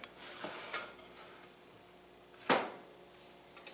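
Metal kitchen tongs clink and tap lightly while slices of Swiss cheese are layered for chicken fettuccini, a few faint scattered clicks with one sharper clatter midway.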